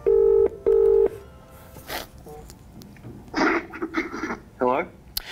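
Two long steady touch-tone beeps from a telephone keypad ring out clearly at the start, then give way to muffled handling noise and a couple of short voice sounds.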